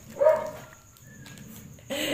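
A dog gives a short bark close by, followed by quieter background noise and another burst near the end, with no speech.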